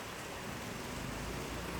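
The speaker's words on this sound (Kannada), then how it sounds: "ಇಲ್ಲಿ ಇವಾಗ ಮಳೆ ಬೇರೆ ಬರ್ತಿದೆ ಇವಾಗ." Steady rain falls outside a home, a continuous even hiss that holds at a moderate, unchanging level throughout.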